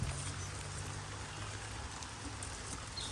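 Steady rain falling outdoors on a farm, a dense even hiss of drops on surfaces with a low rumble underneath, constant and moderately loud, without talking.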